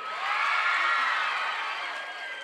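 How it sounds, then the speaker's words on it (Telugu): A lively crowd of college students cheers and claps loudly at a campus event, a dense continuous burst of noise that swells and then eases over a couple of seconds. "గట్టిగా క్లాప్స్"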